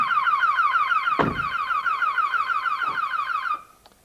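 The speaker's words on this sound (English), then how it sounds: "the alarm goes off" The alarm of a 1996 Rover 800 sounds after a staged forced entry, a loud, rapidly warbling electronic siren that repeats steadily for about three and a half seconds, with a thud partway through, before cutting off.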